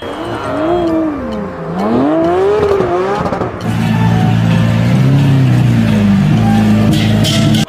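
A Lamborghini car engine revs, its pitch rising and falling in sweeping surges, then settles into a steady, loud drone with a high whine over it; no one speaks.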